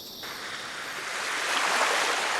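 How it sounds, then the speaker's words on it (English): Ocean waves in a visual novel game, a broad steady wash of surf that swells slightly louder toward the end, heard alone without talk. "the sound of the waves"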